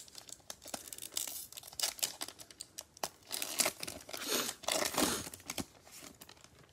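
Crinkling and tearing of a foil pack of football trading cards being ripped open close up, a dense run of crackly rustles and sharp rips lasting several seconds, with no talking.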